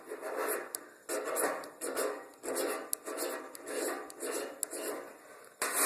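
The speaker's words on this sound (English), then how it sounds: "you'll want to get you a pile of magnesium shaved off" A knife blade scraping shavings off a magnesium fire starter bar, with repeated rasping strokes in a steady rhythm, each stroke loud and close, about eight passes with brief gaps between them.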